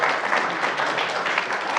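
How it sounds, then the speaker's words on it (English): Audience applauding a panel at the close of a discussion about the Great Salt Lake, a short burst of dense, even clapping at steady volume throughout. "Another round of applause for the panel"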